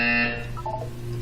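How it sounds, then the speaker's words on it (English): A Portal 2 test-chamber buzzer gives one short, loud electronic blast lasting about a third of a second. Faint tonal chirps follow and fade into low hum. "You will hear a buzzer."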